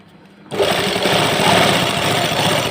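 A sewing machine stitching salwar fabric starts up after a brief quiet moment, then runs loud and steady with a fast, even mechanical whirr close by.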